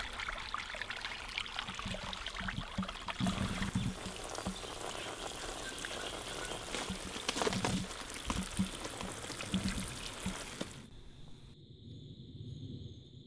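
Water splashes and trickles steadily onto garden soil and leaves for about ten seconds, a continuous wet patter, then stops, leaving near silence.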